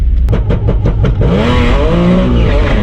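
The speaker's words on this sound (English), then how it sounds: "Oh, massive wheel spin." A 2012 Audi S4 with Integrated Engineering upgrades launches at the drag strip, engine revs pulsing rapidly then rising into a loud, sustained climbing roar up close.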